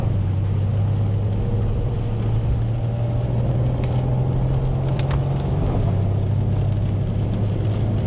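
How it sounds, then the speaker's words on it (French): Mercedes C63 AMG with about 630 horsepower, driven with the exhaust valves open, heard from inside the car as a steady low engine drone and road rumble at a constant pitch. "Je t'ai ouvert les clapets à l'échappement."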